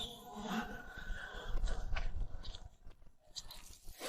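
Crunchy chewing of fried grasshoppers, close and quiet, with a few crisp bites and irregular crunching over about four seconds.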